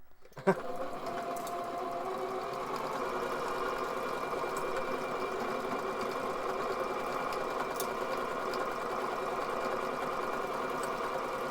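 A sewing machine back-stitches a fabric face mask, its motor running in a steady, even whirring hum after a brief click at the start, close and uninterrupted.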